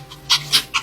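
A dog being fed gives three quick, breathy bursts, like eager panting or snuffling at food, close and fairly soft over a faint low hum.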